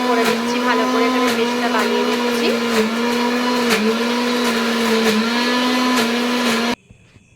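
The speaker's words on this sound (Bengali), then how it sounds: "এবার সমস্ত উপকরণগুলোকে একসাথে পেস্ট করে নিচ্ছি মিক্সিং জারে" A mixer grinder whirs loudly and steadily, blending green chili, salt and mung dal into a paste, its motor pitch dipping briefly under load before it cuts off abruptly near the end.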